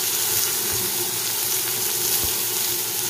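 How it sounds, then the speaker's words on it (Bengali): Chopped onion frying in leftover fish-frying oil gives a steady, close sizzle throughout, with a few soft stirring knocks in the pan. "মাছ ভাজার তেলেই আমি পেঁয়াজ কুচিটা দিয়ে দিচ্ছি"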